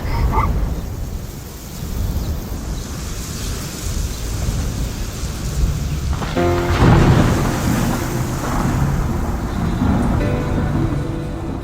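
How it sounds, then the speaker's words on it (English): A savanna thunderstorm with heavy rain hissing steadily and a loud crack and rumble of thunder rolling in midway, close and dense throughout. "Storms, lightning, and thunder."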